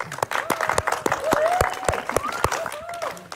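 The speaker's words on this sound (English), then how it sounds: "if you'll give Pastor Kayla Keegan a hand clap" Church congregation applauding for a pastor at an Empowering Pastors gathering, steady mid-volume clapping with sharp individual claps standing out, a voice or tonal sound gliding over it.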